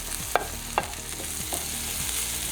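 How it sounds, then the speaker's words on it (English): Butter sizzles in a frying pan while being stirred, a steady close frying hiss broken by several sharp scraping strokes spaced roughly every half second to a second. "My pan looks dry, so I'm gonna add a little more butter, just a little bit"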